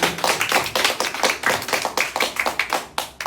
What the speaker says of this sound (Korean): 우리 하나님 앞에 감사의 박수 드리겠습니다.